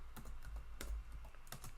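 Keys clack in quick irregular bursts on a computer keyboard as a command is typed into an Arch Linux install, close and fairly quiet, with no voices.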